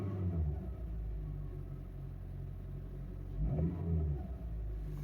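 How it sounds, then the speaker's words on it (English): A 2007 Honda Fit Sport engine idles with a steady low rumble, a noisy AC idler pulley adding to the drone, and a brief swell near the end, heard close with no talk. "You can already hear the AC idler pulley."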